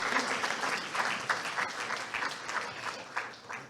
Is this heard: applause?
yes